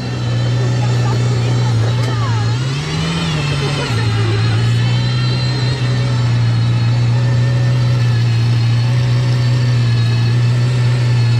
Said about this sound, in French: c'est la Valkyrie Spider saoudienne qui va quitter Monaco